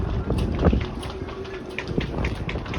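Cold wind blowing steadily across a sailboat on Lake Ontario, a constant rumbling gust buffeting the microphone with faint creaks and knocks from the boat.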